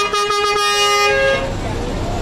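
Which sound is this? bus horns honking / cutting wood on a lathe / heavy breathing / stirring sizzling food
bus horns honking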